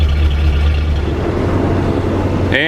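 Mid-90s Power King 1618 tractor with a front end loader, its engine idling steadily in sub-zero cold with a low even drone, close by, before a brief rising squeal at the end.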